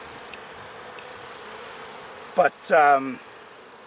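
Honey bees buzz around a hive in a steady, low, continuous drone behind the whole clip, and a voice speaks briefly near the end.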